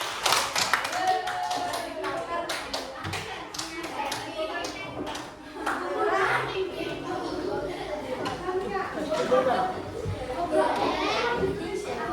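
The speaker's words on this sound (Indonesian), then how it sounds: "Beri tepuk tangan untuk kelompok 4" Children in a classroom clap for a group of classmates, a lively burst of quick, uneven claps and taps mixed with kids chattering and calling out around it.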